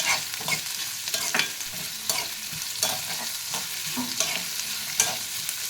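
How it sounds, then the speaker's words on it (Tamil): Onions sizzling and frying in a pan for mutton chukka, a steady close crackle broken by repeated stirring scrapes, with no talk. "நல்லா ஒரு 5-6 நிமிஷம் ஃப்ரை பண்ணிக்கலாம் வெங்காயம்"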